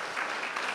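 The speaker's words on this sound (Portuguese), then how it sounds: "Você pode dar uma salva de palmas ao Senhor?" A church congregation claps together in a dense, steady wash of applause at fairly close range, with no gaps or distinct individual claps standing out.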